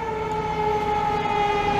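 Fire engine siren from a Montreal fire truck responding downtown, a loud steady wailing tone held close over traffic and engine rumble.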